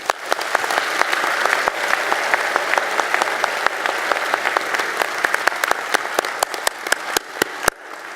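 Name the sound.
applause at a commencement ceremony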